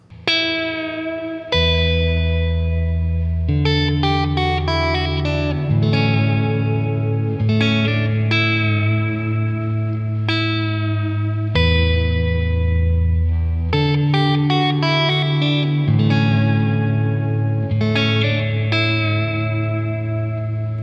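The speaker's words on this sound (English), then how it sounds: "the very first digital reverb pedal, which was the RV-2 digital reverb" Boss RV-2, an early digital reverb pedal from 1987, washes sustained chords played through it in a lush ambient tail. The chords change every few seconds and ring loud and continuous with no gaps.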